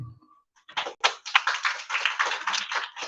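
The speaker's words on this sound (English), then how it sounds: "Let's give her a round of applause" Audience applause at a Mrs. Universe Australia 2022 press conference: after a brief pause, a dense patter of clapping from a small crowd builds and carries on steadily, moderately loud and close.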